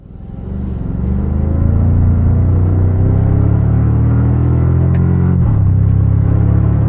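Toyota Tacoma Trailhunter pickup accelerating on a road in sport mode, a deep, loud engine rumble swelling over the first second, then holding steady before a brief shift dip near the end.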